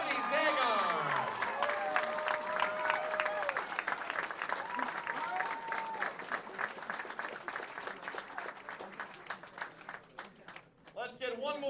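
Audience applause at the 2021 Wisconsin high school bowling girls singles championship: sustained dense clapping with some cheering, fading near the end, with an announcer talking over the start.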